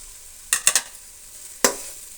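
Masala and grated radish and carrot being stirred in a hot pan for a rice bath, with a quick cluster of three scraping stirs followed by one more, over a faint steady sizzle.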